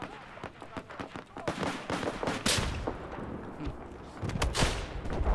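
Gunfire in the video game Battlefield 4: rapid bursts of shots and sharp explosive cracks, some close and loud, others distant, with voices talking over the battle.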